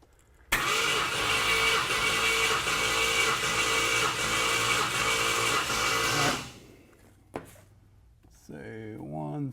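A car engine cranks over steadily on the starter during a compression test, a loud rhythmic chugging for about six seconds that then stops, followed by a brief clank and a voice speaking.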